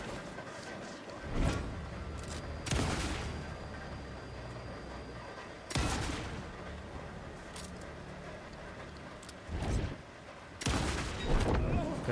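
Gunfire in Alan Wake II: several loud, sharp shots spaced a second or more apart, each followed by a short echoing tail, over a murky ambient rumble.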